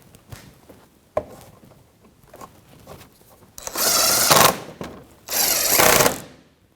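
A power tool with a 10mm socket snugs bolts on a 2014-2019 Toyota Corolla 1.8L L4 during oil pan replacement. Two loud, close buzzing bursts of about a second each follow quieter handling clicks and taps.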